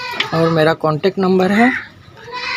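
A goat for sale at a livestock market bleats in wavering cries close by, with people talking over it.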